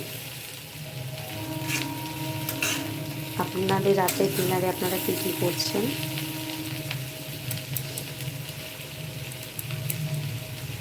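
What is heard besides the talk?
frying potato and onion fritters in oil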